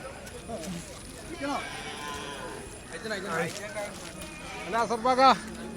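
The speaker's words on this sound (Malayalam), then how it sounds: "ഒരുപാട് വളർത്തുകുട്ടികൾ എത്തിയിട്ടുണ്ട് കേട്ടോ ചട്ടിപ്പറമ്പ് ചന്തയില്" Cattle moo repeatedly amid a busy crowd of voices at a livestock market in Chattiparamba, several drawn-out lows rising and falling, the loudest near the end.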